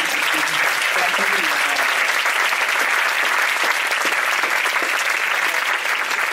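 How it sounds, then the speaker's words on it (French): An audience at the PIFFF film festival launch applauds the festival team with dense, sustained clapping that holds at an even loud level throughout. "Applaudissez-les parce qu'ils le méritent vraiment énormément"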